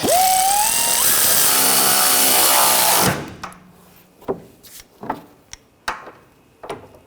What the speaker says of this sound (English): I'm going to tighten this one down.